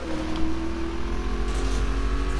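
A fast Lamborghini races past with a steady, loud engine roar, close by and alone, holding a strong sustained drone throughout without voices.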